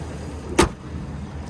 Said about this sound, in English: Let's pop that hood